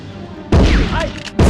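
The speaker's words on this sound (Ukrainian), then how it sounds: "Це буде дробовик. Хоча тут він виглядає як труба, але стріляє дуже файно." A shotgun in the 1999 shooter Medal of Honor fires two loud, booming blasts about a second apart, each cutting in sharply from near silence with a rough, ringing tail.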